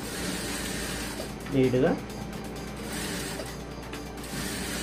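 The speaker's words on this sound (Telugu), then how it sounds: "డబల్ కుట్టు వేసేసుకోండి" Sewing machine stitching a double seam on a padded blouse in a boutique tailoring setup, a steady mechanical whir with a brief louder burst of rapid stitching in the middle, under light talk.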